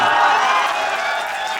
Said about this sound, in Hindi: भाई ये ताली वाली बजाना बंद कर दो